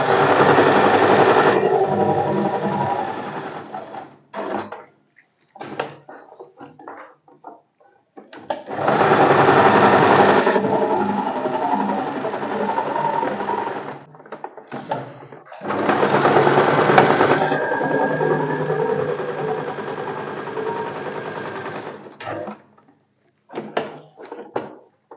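A sewing machine runs in three long bursts stitching tucks into a blouse, each a loud continuous whirring hum, separated by pauses filled with small handling clicks and fabric shuffling.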